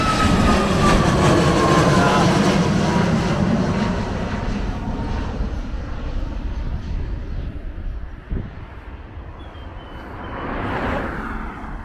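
An American Airlines jet climbs away from the Montego Bay airport strip, its broad roar loud at first and then slowly fading and thinning as it recedes, with a brief thump partway through.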